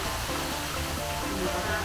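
A waterfall where children play in the water gives a steady rushing roar, with a faint voice and some splashing mixed into the brief wash of sound.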